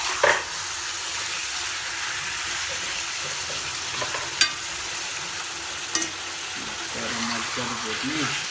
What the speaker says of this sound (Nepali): अब यो मजाले भुटिन्छ।